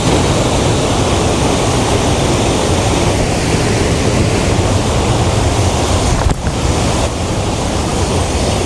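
Village waterfall at Pawai, heard as a loud, steady, broadband roar of rushing, crashing water that stays constant and close throughout, with no voices.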